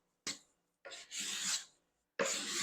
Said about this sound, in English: So we just come across here like that and get those very, very nice shavings.